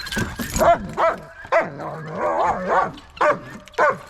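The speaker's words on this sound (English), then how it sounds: "Anytime she gets excited, she barks." Maggie the dog barks excitedly at a farm before animal feeding, giving repeated loud, close barks and yips in irregular bursts with short gaps.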